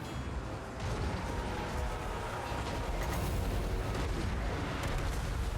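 Rocket artillery fire in Total War: Warhammer 2 amid a Skaven battle, a dense, continuous rumble of launches, impacts and mechanical creaking, moderately loud and unbroken, with no clear talking.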